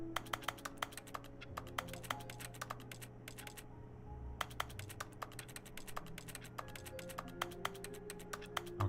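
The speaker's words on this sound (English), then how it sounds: "Maybe we just click the keyboard 100 times." Rapid keyboard typing in The Stanley Parable video game gives a long run of crisp, close key clicks over a low hum, with one short pause partway through and no voices.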